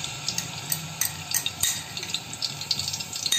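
Ginger and garlic fry in about half a bowl of hot oil in a pan for chicken jalfrezi, a soft, continuous sizzle with small crackles and light stirring scrapes close by.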